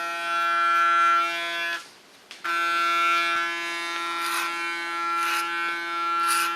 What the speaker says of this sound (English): shave some length on this side because that is growing back